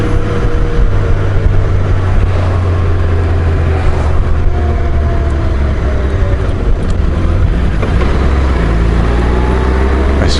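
A 2018 Honda Goldwing touring motorcycle cruises near Frejus with a steady, loud engine drone and wind rush throughout, the engine note shifting slightly as gears change, and no talk.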